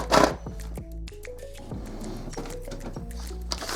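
A Brother MFC-J4410DW inkjet printer starts a nozzle check page, giving off close mechanical whirring, clicks and rising motor tones with short pauses between movements.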